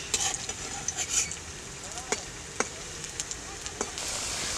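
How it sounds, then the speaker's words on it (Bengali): Spatula stirring egg and eggplant fritters frying in oil: a steady sizzle with several scraping, clinking strokes of the utensil against the pan, close by. "2 মিনিট পর খুন্তি দিয়ে নেড়ে নিচ্ছি যাতে একটার সাথে একটা লেগে না যায়।"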